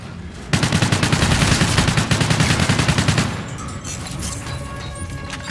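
Rapid automatic gunfire in the Call of Duty: Infinite Warfare video game, a loud sustained burst of densely spaced shots lasting about three seconds, then trailing off into quieter game ambience with no talk.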